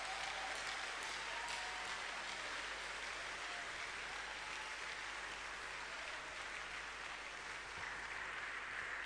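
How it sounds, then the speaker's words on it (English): Congregation applauding during a prayer service, a steady, even wash of clapping that holds at a fairly faint, distant level for nine seconds without a break, with no talking over it. "Give him a good clap up from somebody."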